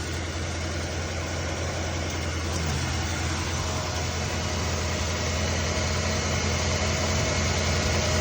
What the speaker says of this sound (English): I set the idle down on it just a little bit. I didn't like how high that was idling.